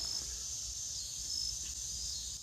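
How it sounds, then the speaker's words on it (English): Crickets chirping at dusk outdoors, a steady high-pitched continuous trill over low background hum, no talking. "You can hear the crickets and all kinds of little critters."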